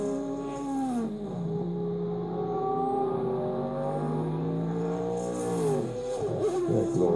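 Wailing Peugeot Group C race car engine on track at Goodwood 73rd Members' Meeting, steady high-pitched engine note with shifting harmonics, rising and falling as cars pass at moderate distance.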